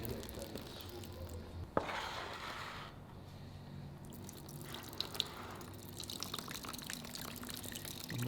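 Fluid from a teardown of a billet four-rotor engine drains into a drain bucket, a faint steady trickle with occasional drips and small clinks in a quiet shop.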